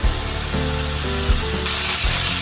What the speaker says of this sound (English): it is going to be sauteing and frying in 2 tablespoons of bacon fat